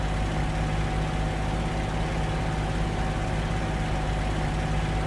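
A P-40E fighter's piston engine in Il-2 Great Battles taxis at low power, a loud, steady droning rumble with a constant hum and no change in pitch, heard alone.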